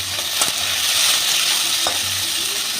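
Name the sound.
potato sticks frying in hot oil with mustard seeds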